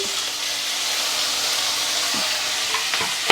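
Cashews, raisins and grated ginger fry in a pan for mango pulihora, giving a loud, steady hiss of hot oil with a few soft stirring knocks near the end, close by and with no talk.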